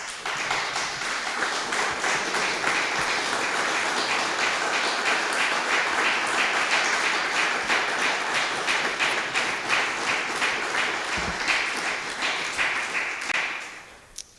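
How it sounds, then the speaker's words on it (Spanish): A church congregation applauding, a sustained wash of dense clapping from many hands lasting over ten seconds before tapering off, with no speech over it. "Dale un aplauso al Señor."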